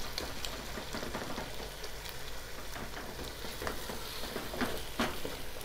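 Potatoes frying for chicken pulao sizzle steadily in a pot while a spoon presses and stirs them, adding soft scrapes and clicks over the continuous close hiss.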